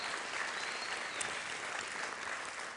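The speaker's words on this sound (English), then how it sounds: "So please give a round of applause for the National Dance Project and NIFA." Steady applause from a seated audience at the Jacob's Pillow 80th anniversary dance festival inauguration, moderately distant and even for the full stretch.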